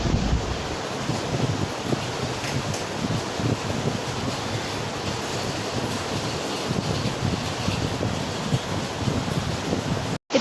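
Strong wind roars steadily into the microphone, a dense rushing noise that barely lets up, with no voices.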